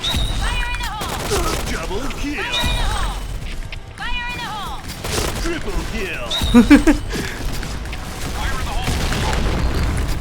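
Gunfire and grenade blasts in the Point Blank online shooter game: repeated booming explosions and shotgun bursts through the clip, with a cluster of sharp impacts midway, under excited talking.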